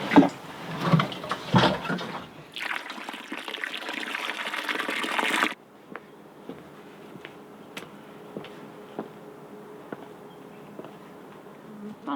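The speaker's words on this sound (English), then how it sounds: "Why are you washing your feet here and not at the well?" Water poured for washing feet outdoors among Bedouins at Petra, a few seconds of splashing and gushing, then a quieter stretch with faint ticks and a voice in the background.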